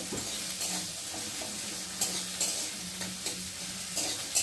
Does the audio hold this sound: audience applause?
no